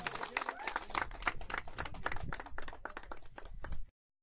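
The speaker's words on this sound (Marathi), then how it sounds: "आणि नक्कीच सर्वांनी जोरात टाळ्या वाजवायच्या आहेत मयूरसाठी." A crowd claps at a fishing competition prize ceremony, a dense burst of applause lasting nearly four seconds before it stops abruptly.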